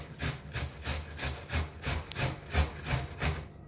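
An onion grated on a grater, a rhythmic series of about ten rasping strokes, close and evenly paced.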